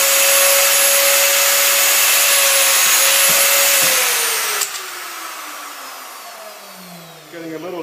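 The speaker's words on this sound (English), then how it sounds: "Make sure the motor's turned on." Motor of a Hoffmann MU 2 dovetail routing machine running in a workshop, a loud steady high whine that drops in pitch and fades as it winds down, with a few faint clicks.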